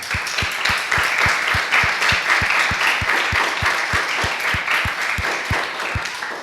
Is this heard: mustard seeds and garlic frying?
no